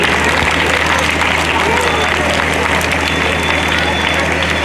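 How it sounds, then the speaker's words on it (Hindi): A school annual function crowd applauds the children, a loud dense wash of clapping sustained throughout with some crowd noise mixed in. "जोरदार तालियां इन बच्चों के लिए।"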